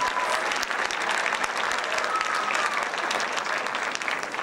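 Sustained audience applause for academic decathlon scholarship award recipients, a dense even wash of many hands clapping at once, fairly distant and steady, with little talk.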